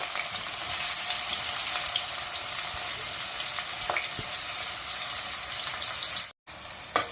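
Fish pieces frying in a pan of oil, a dense, steady sizzle that fills the whole clip, broken by a brief silence near the end.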